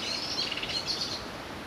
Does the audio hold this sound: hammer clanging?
no